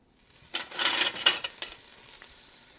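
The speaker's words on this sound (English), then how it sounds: "right now I am browning up some sausage" Sausage removed from its link casings browns in a hot pan on a stovetop burner. A short burst of loud sizzling comes with stirring scrapes, then fades to a quieter fry.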